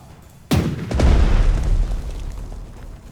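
Artillery shells the airfield in the Strategic Mind video game: a single sharp, loud blast followed by a deep rolling rumble that slowly fades.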